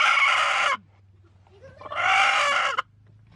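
A tame backyard hen disturbed from her nesting spot, giving two loud, close bursts of agitated clucking and squawking separated by a short pause.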